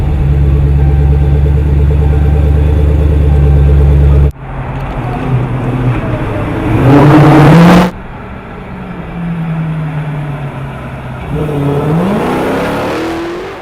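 A 2015 Dodge Challenger Hellcat engine drones loudly at a steady idle, then revs hard through rising pulls with abrupt cuts, settles back, and climbs again, close and with no voices.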